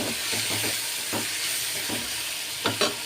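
Chana frying in oil in a pan, a continuous close sizzle with repeated scraping stirs and clinks from a spoon against the pan, no voices.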